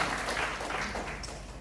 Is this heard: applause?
yes